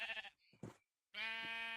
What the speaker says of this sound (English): Yeah, there's a lot of sheep.